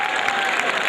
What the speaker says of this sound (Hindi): समझ गए तो ताली बजा दो